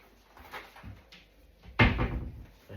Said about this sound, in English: That's the cupboard door.